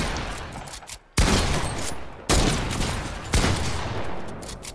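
Bursts of heavy gunfire from a shooting video game, three loud sudden volleys a second or so apart, each rattling on and trailing off before the next, with no voices.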